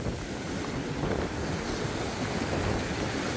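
Large ocean waves crash and surge continuously around a wrecked boat, with heavy wind rumbling across the microphone, loud and close throughout.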